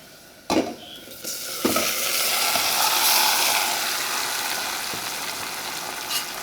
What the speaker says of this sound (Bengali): এখন আমি আমার ম্যারিনেট করা মুরগির মাংসটা দিয়ে দিব।